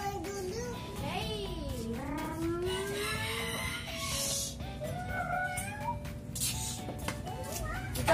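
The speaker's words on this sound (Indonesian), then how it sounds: "Tuh ada 2 kucing." Cats meow repeatedly, with rising and falling cries close by over a noisy background, while people talk.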